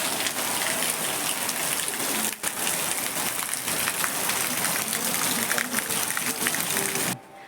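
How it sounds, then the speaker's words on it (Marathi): Steady rain pours down outside a house in Konkan, a dense continuous hiss of drops hitting surfaces, broken by a brief pause before cutting off near the end. "घराच्या बाहेर पाऊस पडतो बघू शकता तुम्ही"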